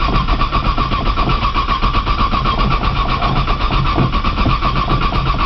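A cold car engine cranks repeatedly with the gas pedal lightly fluttered, a loud, close, continuous rhythmic churning of the starter and engine with no catch, no voices.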